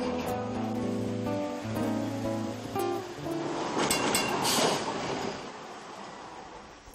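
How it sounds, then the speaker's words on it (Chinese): A Hong Kong tram rolls along the street, first with a humming, tonal motor whine and then a louder broadband rumble and rattle of wheels on the rails, heard from on board without speech. "一面游电车河，一面观察电车外面嘅事物"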